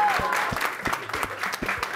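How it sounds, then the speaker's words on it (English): Audience at a teacher-of-the-year award event breaks into applause, a dense steady patter of many hands with a few sharper claps standing out, sustained throughout. "Round of applause."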